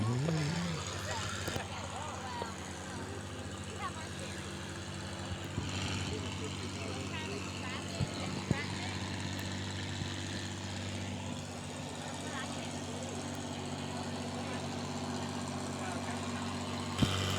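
A diesel Oliver Super 88 tractor drones steadily at a fairground tractor pull, a constant low engine rumble heard from a moderate distance beneath crowd noise and an announcer talking throughout.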